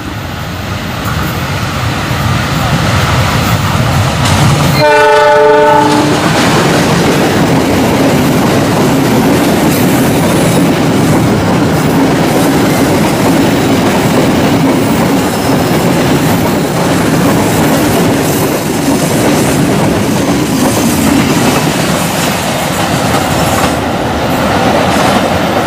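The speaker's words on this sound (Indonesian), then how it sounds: "Selanjutnya ada kereta api Pertamina." A loud Pertamina train rumbles past close by with steady rattling wheels and a brief tonal horn blast early on.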